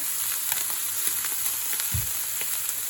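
Shrimp sizzle and fry in a pan at a steady crackle, with scattered pops and a brief low clatter of the pan being handled near the end.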